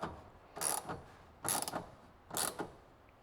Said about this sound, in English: slip my ratchet on here and spin this on